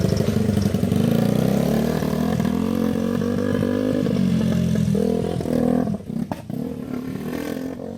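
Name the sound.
motorcycle engine running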